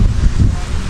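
Steady low rumble of wind buffeting the microphone, continuous and fairly loud, with no voices.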